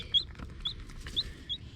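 A calm mother hen sits with newly hatched chicks, giving soft clucks over a low rustling background, while thin high peeps from the chicks sound at regular intervals, close by and without talk.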